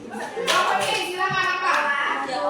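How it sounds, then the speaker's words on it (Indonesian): Children in an Indonesian school classroom clap together in a brief burst of applause, broadband and fairly close, mixed with children's voices talking over it. "Tepuk tangan ya"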